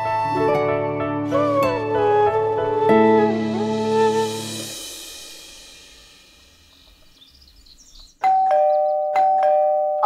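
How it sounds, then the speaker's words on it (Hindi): An early-morning doorbell rings at a home entrance, a ding-dong chime melody that fades out, then after a pause the bell sounds again in sharp repeated tones, loud and close. "धोबी होगा, इतनी सुबह सुबह वही घंटी बजाता है।"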